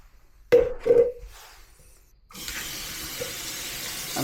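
Two short electronic beeps sound at a household tap, then water gushes steadily from the faucet for the rest of the moment, close and fairly loud.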